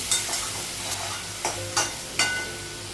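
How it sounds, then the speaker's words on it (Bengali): Potatoes and onions fry in oil while being stirred, a steady sizzle broken by several distinct scraping strokes of a utensil across the pan, close and fairly loud. "তেল লাগাবো আলু আর পেঁয়াজটা একটু ভেজে নেব"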